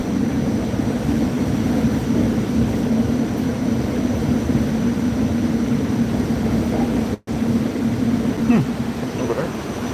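A Staten Island Railway train rolls along from inside the car, a steady droning rumble with a broad rush of noise and a momentary cut, no voices.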